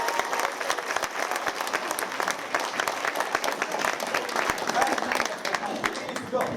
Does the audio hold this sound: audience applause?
yes